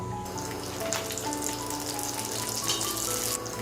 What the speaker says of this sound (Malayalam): ബിരിയാണി തയ്യാറാക്കാൻ വേണ്ടി ആദ്യം നമുക്ക് മീൻ പൊരിച്ചെടുക്കാം